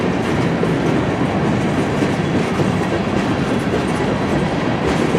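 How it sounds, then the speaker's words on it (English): A long CN mixed freight train rolls steadily past at close range, wheels clacking on rail joints in a continuous loud rumble with no gaps across the whole span. "It's a really long train."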